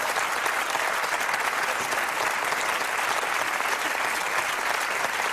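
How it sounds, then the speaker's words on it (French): Steady, dense applause from a studio audience on a French talk show, welcoming two guests; a full, continuous wash of many hands clapping throughout, with no voices over it. "On vous applaudit tous les deux, évidemment."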